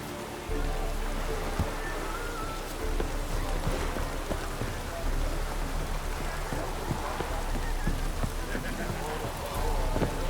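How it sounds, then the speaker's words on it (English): Rain falls steadily in the video game The Witcher 3, a dense, even hiss of drops on the ground that holds for about ten seconds without a break. "Looks like rain."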